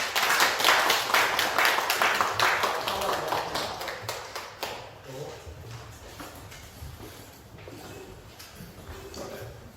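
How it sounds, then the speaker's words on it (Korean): An audience at a Korean civic organization's monthly meeting claps after an award presentation, a moderate round of applause with distinct individual claps that fades to sparse taps, with some voices underneath. "큰 박수 부탁드립니다."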